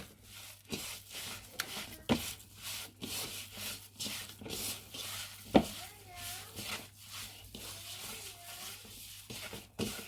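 Meatloaf ingredients are mixed by hand, giving soft, rhythmic squelching and rubbing strokes that repeat steadily at close range and low volume.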